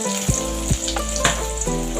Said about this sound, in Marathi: तेल तापल्यानंतर चिरलेला कांदा घालायचा.